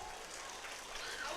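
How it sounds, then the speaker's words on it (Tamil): A school annual day audience claps in a steady, dense wash of applause that swells slightly toward the end. "இந்த மாதிரி நீங்க கைத்தட்டுறது நமக்கும் நல்லது இல்லையா?"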